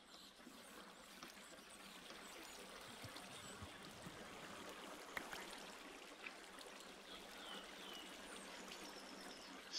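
Steady rushing splash of a waterfall pouring down a stone tower in Minecraft, continuous and fairly faint, with no talking over it.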